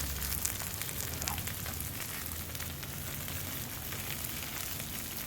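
Chicken parmesan sizzles on a Blackstone flat-top griddle, giving a soft, even crackling hiss that holds steady throughout with no talking.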